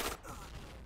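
A burst of gunfire in a competitive shooter match, a loud crack at the start followed by a rolling echo and dense battle noise, all within about a second.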